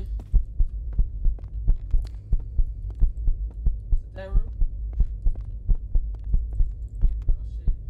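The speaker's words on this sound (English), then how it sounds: "your heartbeat fast as fuck" Fast, rhythmic heartbeat thumping in a horror video game, a deep, steady double pulse repeating roughly every half second over a low hum, with a brief voice heard partway through.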